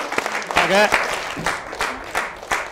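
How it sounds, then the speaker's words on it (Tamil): Applause rises for crew members at a celebration marking 200 episodes of a show, a lively burst of clapping mixed with voices and talk from the people gathered. "ஒரு பெரிய கைத்தட்டல் கொடுத்துடலாம்."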